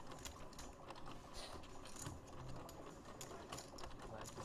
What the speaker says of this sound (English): Card shuffler, sorry.